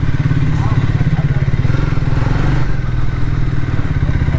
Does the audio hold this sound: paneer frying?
no